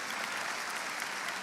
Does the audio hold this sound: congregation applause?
yes